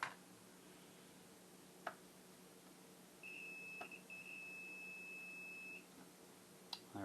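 A multimeter on continuity test gives one steady, thin, high electronic beep lasting about two and a half seconds, faint and close, with a few soft probe clicks around it in a quiet room.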